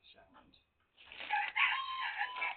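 A rooster gives a loud, close, drawn-out crow in the second half, preceded by a few softer clucks and a brief silence.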